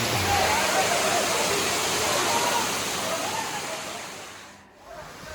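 Katiki waterfall in Araku Valley pours steadily, a loud continuous broadband rush of falling water close by, briefly dipping near the end.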